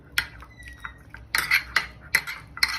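Semolina and cheese being mixed in a bowl, with a spoon clinking and scraping against the sides in a few sharp bursts separated by softer stirring, close and moderately loud.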